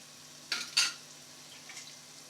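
Green chilies and ginger garlic paste stirred in a frying pan, two quick scraping strokes over a soft sizzle, then a fainter scrape, close and without talk.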